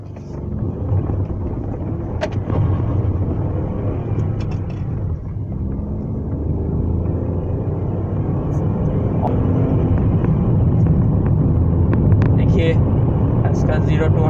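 A Ford EcoSport accelerates from 0 to 100, heard from inside the cabin: a loud engine and road rumble builds steadily over the whole stretch while someone talks over it.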